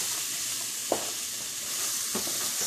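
Boiled black beans sizzling in a hot pan for Mexican rice, with steady frying hiss and two soft stirring scrapes, close and alone.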